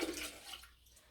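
Urine poured from a measuring container into a toilet, a brief watery splash that trails off within about a second.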